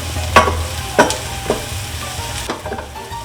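Onions browning in a pan for Italian Bolognese sauce, with a quiet continuous sizzle under several sharp scrapes and stirring knocks of a utensil, spaced roughly half a second apart, close by.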